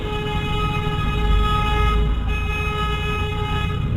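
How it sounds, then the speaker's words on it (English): A car horn blares in a long, continuous tone close by over low road rumble from passing vehicles, part of a neighbourhood horn-honking campaign. "every single one of them was driving by honking the horn"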